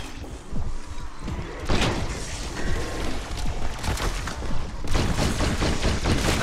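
Rapid bursts of automatic gunfire in Black Ops 6 Zombies at Liberty Falls, close and loud, with dense volleys crackling over a rumbling background and short lulls between strings of shots.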